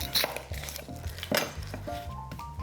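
A knife chops an onion on a dedicated onion board, giving a few sharp, uneven knocks and clacks of the blade against the board, close and fairly loud, with no talking.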